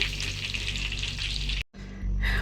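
Fish frying in hot oil produces a loud, steady, close sizzle with a dense hiss that drops out abruptly for a moment before resuming.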